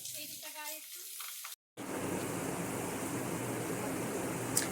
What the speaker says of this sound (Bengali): চচ্চড়িটা একটু ভাজছিলাম